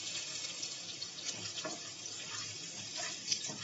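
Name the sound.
garlic added to sizzling tempering for fish and radish curry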